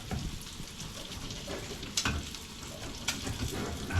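Sulguni cheese fries in a pan for tashmijabi, a steady crackling sizzle with a couple of sharper pops rising above the bubbling.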